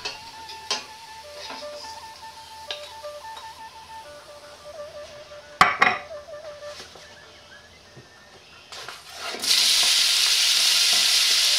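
Strips of pork belly fry and get stirred in a wok, with crisp sizzling, scattered clicks of the utensil against the pan, and a louder, steady hiss of frying swelling up near the end.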